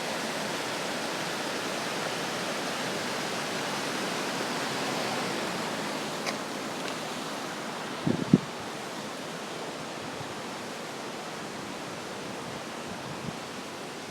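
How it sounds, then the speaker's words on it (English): Steady broadband rush of a flowing stream in Okutama, Tokyo, fills the whole stretch, constant and fairly close, with a couple of brief knocks partway through. "I love the sound of the running water."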